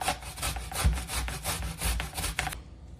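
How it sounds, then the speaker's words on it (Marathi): Peeled raw green mangoes are grated by hand on a grater in close, rhythmic rasping strokes, roughly three per second, ending abruptly with no talking. "आता पूर्ण 2 कैऱ्या आपण ह्या अशा किसून घेऊयात किसणीने"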